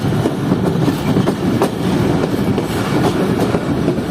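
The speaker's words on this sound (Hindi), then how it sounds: "अब जाफर एक्सप्रेस अप्रोच कर रही है आबे गम रेलवे स्टेशन पर" Jaffer Express of Pakistan Railways pulling into Aab-e-Gum railway station, a loud steady rumble of rolling wheels with rhythmic clickety-clack over the rail joints, continuous and close, no voices.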